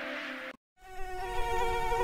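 A mosquito buzzes in a dengue prevention ad: a thin, high whine that cuts off briefly and then returns steady and close, with no talk.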